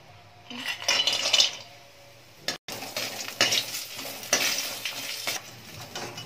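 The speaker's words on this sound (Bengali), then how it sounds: "এই বড়িটাও এই যেটুকু তেল আছে এর মধ্যে বড়িটাও ভেজে নেব।" Lentil dumplings (bori) frying in a small amount of leftover oil in a pan, a steady close sizzle with scraping stirs and clinks of a utensil against the pan, briefly cut off midway.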